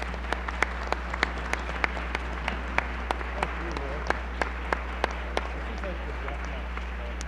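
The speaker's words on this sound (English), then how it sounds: "Let's give them all a nice warm round of applause." Sparse, scattered hand claps from a small audience at a Colorado gubernatorial candidate forum, distinct individual claps at an uneven rhythm over a steady low hum, with speech-like murmur in the room.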